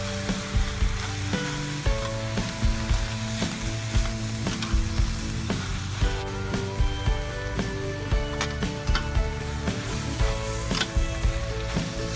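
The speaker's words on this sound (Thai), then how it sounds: "ครึ่งช้อนชาค่ะ และผัดต่อไปอีก จนกว่าผักจะสุกได้ที่ค่ะ" Cabbage stir-fries in a pan with fish sauce, oyster sauce and sugar, giving a loud, continuous close sizzle broken by regular scraping and clattering of a spatula stirring the vegetables.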